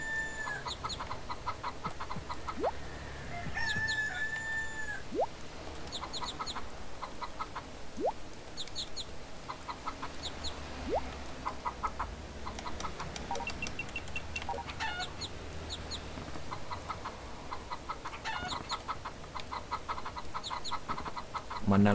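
Chickens in the farming game Harvest Moon: Save the Homeland cluck in short repeated bursts over a steady background of game music and ambience, with occasional higher calls and no talk.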